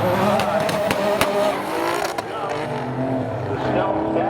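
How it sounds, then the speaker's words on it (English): Dodge Stealth and Mitsubishi VR4 race in a spectator drag event at Seekonk Speedway, engines roaring loudly with sharp exhaust pops and crackles, under steady commentary from an announcer. "The Stealth back and trying to catch up, popping from the exhaust."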